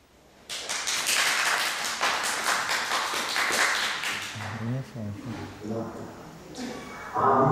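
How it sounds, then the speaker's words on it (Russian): Loud audience applause at the opening ceremony of an international exhibition project, dense clapping for several seconds that thins out as a voice begins speaking near the end. "Громкие аплодисменты."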